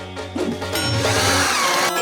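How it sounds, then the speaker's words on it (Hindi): Power drill whirring steadily in a home furniture-building setting, rising to a sustained motor whine after a brief start, with a loud continuous tone and no talk over it. "मैं ड्रिल के साथ काम करूंगी।"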